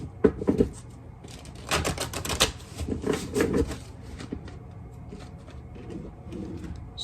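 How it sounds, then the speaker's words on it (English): Playing cards are shuffled in a few quick riffling bursts, close and fairly quiet, with small taps and handling noises between them. "If I could shuffle these damn cards"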